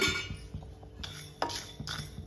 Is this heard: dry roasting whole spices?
yes